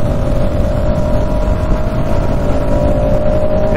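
A vehicle engine drones steadily while driving, a dense low rumble with a faint constant whine and some wind buffeting, heard close and with no talk.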